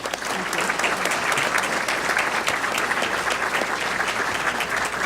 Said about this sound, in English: How about a big round of applause for Lois Scott?